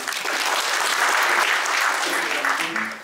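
An audience at a fire safety policy forum gives a steady round of applause, full and close throughout before tapering at the end, with faint speech underneath.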